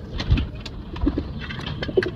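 Pigeons coo nearby in a caged aviary, giving a few soft, low, throaty coos in short bursts with faint background noise and no talking.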